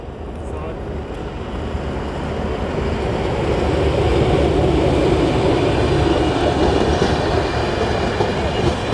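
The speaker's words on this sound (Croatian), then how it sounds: "i da ide vlak." A train rolls past nearby with a continuous heavy rumble and rattle that swells and holds steady, loud and unbroken, heard without speech.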